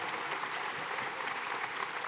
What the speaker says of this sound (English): everybody give a round of applause for Kim, CRCL, and the program committee